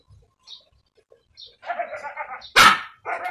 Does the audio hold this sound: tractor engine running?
no